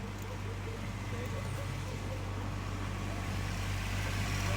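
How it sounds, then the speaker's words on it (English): A truck driving past: a steady, loud low engine drone and road rumble holding constant throughout, with no break or fade. "So watch the truck."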